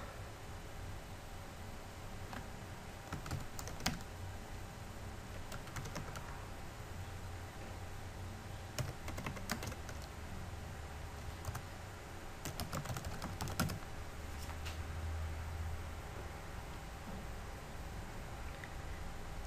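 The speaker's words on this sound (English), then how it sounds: "You can directly type in using your workstation keyboard" Steady typing on a workstation computer keyboard, with quick irregular key clicks and occasional louder keystrokes over faint constant hiss, no voices.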